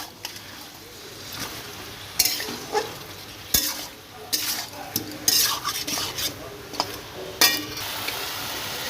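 Chicken with spices is stirred hard in a pan, the sizzle running under repeated scraping strokes and metallic clinks of a spoon against the pan at an irregular pace.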